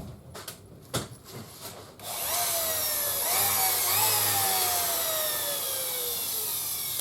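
A Makita sander, freshly repaired and serviced, starts after a few handling knocks and spins up into a loud, steady whine that holds close and even to the end.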